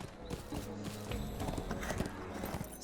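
Horse hoofbeats clopping at a quick, uneven gait in the online fantasy game Lord of the Rings Online, steady and close over a busy game soundscape.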